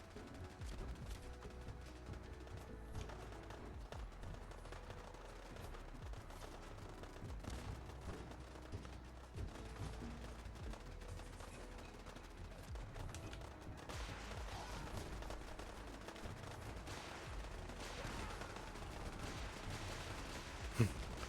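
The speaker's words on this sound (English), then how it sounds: "What the heck is wrong with my turrets? Oh, I think they're just shooting the power plants." Video-game turrets open fire on power plants, a dense, unbroken stream of rapid shots that holds at a steady level for the whole stretch, with no pauses between bursts.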